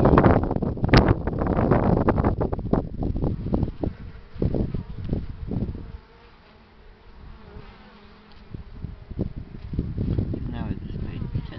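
Honey bees buzz around a hive entrance, a dense droning hum with wind rumble and people talking intermittently nearby.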